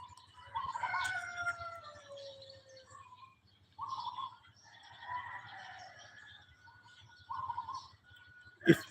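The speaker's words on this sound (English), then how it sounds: "If the sound of the cockerels doesn't..." Several cockerels crowing on a morning in the Philippines, long rising calls from a few birds at moderate distance that overlap and alternate, over a faint rhythmic background hum, ending with a sharp close knock.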